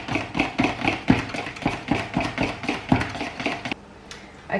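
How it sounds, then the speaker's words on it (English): A whisk beats a custard mixture with vanilla in a bowl, making quick rhythmic metallic clicks and scrapes against the sides, close and fairly loud, before stopping abruptly near the end. "just give that another whisk"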